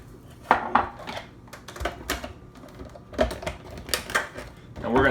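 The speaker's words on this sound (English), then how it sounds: "And we're just going to put in our oats." Dry oats rattle and patter into a large blender jar in uneven bursts, a light scattered clatter of grains against hard plastic at close range.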